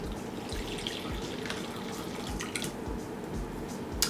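Lukewarm water poured into a bowl for pizza yeast, soft splashing and dripping with irregular small plops, quiet and close, no talk.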